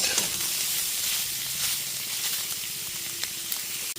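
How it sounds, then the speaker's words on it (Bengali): Soybean chunks fry in a pan over a low-medium gas flame with a steady, even sizzle and hiss, close and continuous, with a few small pops and a faint clink near the end. "গ্যাসের ফ্লেমটা এই সময় লো টু মিডিয়ামে রেখে সয়াবিনগুলোকে ভেজে নিচ্ছি।"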